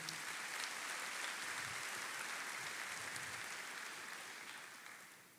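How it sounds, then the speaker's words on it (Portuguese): A church congregation claps together in sustained, dense applause that stays steady and fairly loud, then tapers slightly toward the end, with no voices standing out above it. "Uma salva de palmas para essa igreja linda."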